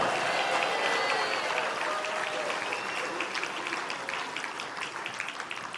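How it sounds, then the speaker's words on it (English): Audience applause at a national convention fills the hall for elected board members, a steady wash of clapping that slowly tapers off, with faint crowd murmur underneath. "let's have a big round of applause for all of our elected members of the board"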